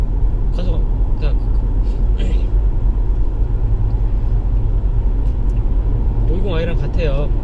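BMW 530e plug-in hybrid car accelerating, a steady low engine and road rumble from inside the cabin, with a voice speaking briefly over it near the end.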